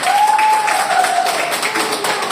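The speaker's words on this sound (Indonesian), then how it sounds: "Tepuk tangan dulu untuk kita semua." A classroom group claps together during a micro-teaching session, a short dense patter of applause with a faint tone running underneath.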